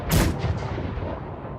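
A single cannon boom in the Hunger Games Simulator arena, one sharp blast rolling into a long fading rumble, heard alone without voices.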